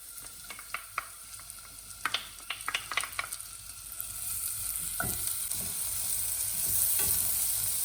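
Shallot frying in melted butter for porcini risotto, starting with a series of sharp clinks and scrapes of stirring, then settling into a steady, growing sizzle with no voices.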